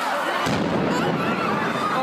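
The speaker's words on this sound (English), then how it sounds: "there was a loud noise, an explosion, big puff of smoke" A bomb blast at the Boston Marathon finish line, heard as a sudden deep boom that rolls into a sustained roar of rumble and crowd noise.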